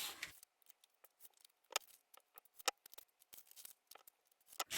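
Scissors cut strips from paper in a crafting setting, a close series of crisp, quick snips with short pauses between them, quiet and without talking.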